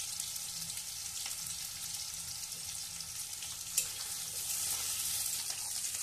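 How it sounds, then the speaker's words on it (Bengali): Potato pieces frying in a pan with oil for a Bengali liver chorchori, giving a steady, moderately loud hiss and sizzle throughout with no talking. "একটু লাল করে ভেজে নেব আলুটাকে"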